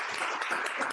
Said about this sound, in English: Let's give another round of applause for her.